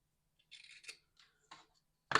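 Scissors snip through folded paper in a few short, crisp cuts close up, separated by brief silences, ending with a louder final snip.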